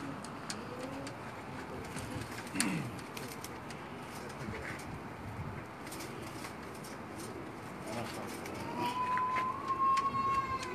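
Pigeons coo softly on a rooftop pigeon loft, low murmuring calls spread through a faint outdoor background, with a thin siren-like tone rising near the end.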